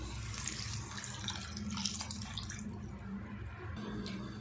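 Water streams steadily into a pan of fried tomato gravy, a continuous splashing pour with a low sizzling rumble underneath, close and fairly quiet.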